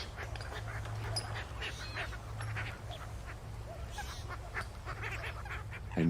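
Ducks quack and honk in a steady, moderately loud stream of calls over a constant low background hum, with a short louder burst right at the end.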